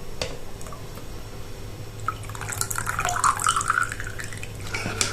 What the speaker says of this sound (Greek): Και θα προσθέσουμε το χυμό από ένα πορτοκάλι.